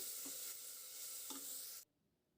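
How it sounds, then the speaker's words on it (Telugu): Ginger garlic paste frying on a low flame, a steady soft sizzle with a couple of light stirring scrapes, close and alone, cutting off abruptly near the end. "అల్లం వెల్లుల్లి పేస్ట్ వేసేసి మాడకుండా సిమ్లోనే వేయించుకోవాలండి"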